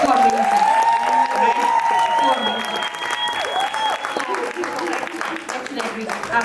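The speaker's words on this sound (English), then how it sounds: "can you just give her a round of applause?" An audience gives a round of applause for a speaker's mother, a steady crowd clapping heard under and alongside tonal music or electronic sounds, with some cheering mixed in.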